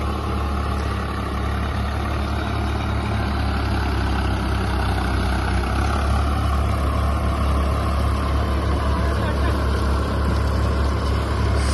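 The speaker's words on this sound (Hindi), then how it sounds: "स्वराज 855 ट्रैक्टर पे भाई 9 मॉडल ट्रैक्टर है और 55 HP का बढ़िया शानदार रोटावेटर चल रहा है इस पे।" Birbal rotavator running on a 55 HP Swaraj 855 tractor in farm soil, a loud, steady, low engine drone with churning mechanical rumble that holds even throughout, no talk.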